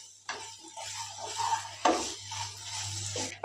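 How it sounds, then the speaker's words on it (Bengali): A spoon scrapes and knocks against a pan while ground cumin and other spices are stirred for a Bengali vegetarian brinjal curry, with sharp clinks at the start and near the middle over a steady low hum, close by, with no talking. "এবার এগুলোকে একটু নেড়ে চেড়ে জল দিয়ে দেবো"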